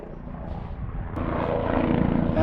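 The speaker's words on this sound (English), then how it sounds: "Helicopter." A low engine drone grows steadily louder, like a helicopter approaching overhead, rumbling and building toward the end.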